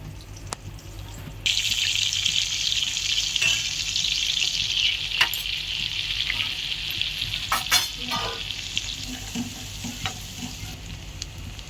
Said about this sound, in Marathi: तर सुक्याला आता आपण फोडणी देत आहोत